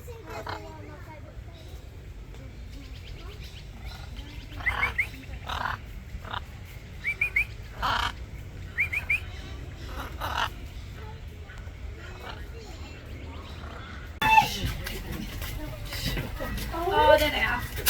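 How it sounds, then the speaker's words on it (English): Wild parrots in Rockhampton give several short, shrill squawks and chirps over steady outdoor background noise, with brighter, sharper calls near the end; people talk quietly nearby. "I love parrots."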